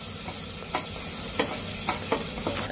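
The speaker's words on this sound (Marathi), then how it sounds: "लसूण पेस्ट टाकूया आपण. थोडीशी परतून घेऊया." Garlic paste sautéing in a hot pan for sambar, a steady close sizzle with a few scraping stirs of a spoon, no voices.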